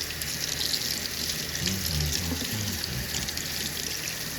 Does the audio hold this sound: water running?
yes